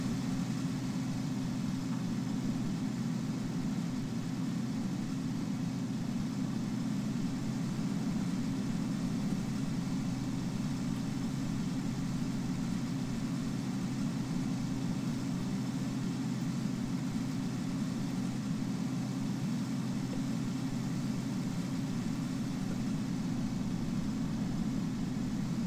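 A tractor engine driving on snow in Farming Simulator 19, a steady low droning hum that holds constant throughout, without breaks or voices.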